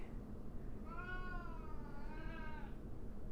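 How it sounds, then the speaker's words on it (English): A hungry cat gives one drawn-out, wavering meow lasting a second or two, close and clear over a steady low background hum in a home kitchen. "hungry kitty. Get it. Come on now."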